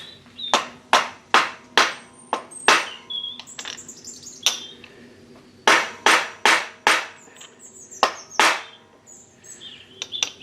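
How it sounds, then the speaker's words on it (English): A small hammer taps a bearing into a lathe coolant pump, making clusters of sharp, bright metallic knocks in quick rhythmic runs with short pauses between them, close and loud. "The bearing, and I think I can just tap it in."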